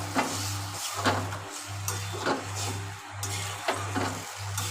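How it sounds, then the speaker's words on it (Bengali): A spoon stirring mixed vegetable curry in a pan with water and coriander leaves, giving repeated scraping strokes in a steady rhythm over a low simmering hiss, close and moderately loud with no talking. "এবার নেড়ে চেড়ে ঢাকা দিয়ে দেবো।"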